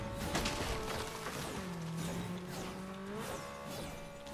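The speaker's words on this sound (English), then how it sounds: "I can hear a motorcycle." A motorcycle engine in a video game drones with a rising and falling whine, steady and moderately loud throughout, blended with other game noise.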